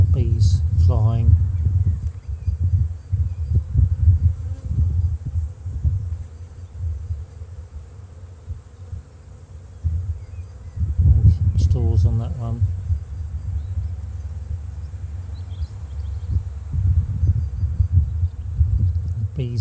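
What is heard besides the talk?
honeybees flying around a hive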